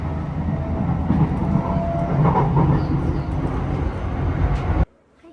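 A train running in Japan, a steady loud rumble of wheels and carriage noise with faint clickety-clack that cuts off abruptly near the end, leaving quiet background.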